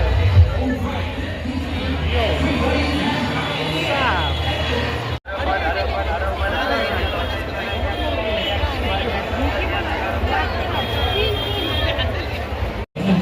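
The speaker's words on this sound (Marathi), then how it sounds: "तर मित्रांनो खतरनाक गर्दी" A dense crowd at Dagdusheth Ganpati temple in Pune gives off a constant, loud hubbub of many mingled voices close by, with someone speaking over the din.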